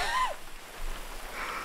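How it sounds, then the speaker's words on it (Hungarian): Rain falls steadily in GTA 5, a soft continuous hiss throughout with a brief higher tonal sound near the start; no talk. "Esik az eső."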